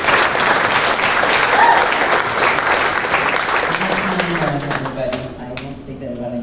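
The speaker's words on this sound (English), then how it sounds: "Please give a round of applause to Taousi El Hadji" A crowd at a boxing final press conference applauds a French national champion, loud sustained clapping filling the room, then thinning out as a voice begins speaking over the fading claps.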